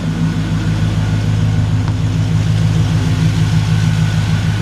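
A Chevrolet LT1 V8 idles steadily after a fuel injector swap, a smooth, even low rumble with no misfire, close up and continuous with no talk.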